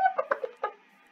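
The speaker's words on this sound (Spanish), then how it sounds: "¡Hay un pollo!" Chicken clucking in the video game Minecraft: a quick burst of four or five short, close clucks, then a brief quiet tail.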